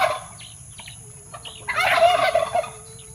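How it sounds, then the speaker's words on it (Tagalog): A pet turkey gobbles in a loud, rapid warbling burst near the end, after a few softer calls, at close range outdoors. "Ingayan na yung pabo ko dito, tay."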